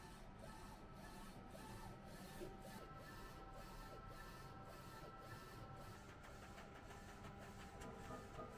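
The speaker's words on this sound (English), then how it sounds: "Then we can start printing." YT370C DTF printer printing a run of film transfers, a steady mechanical whir and hum with faint rhythmic carriage ticks repeating throughout, close and constant.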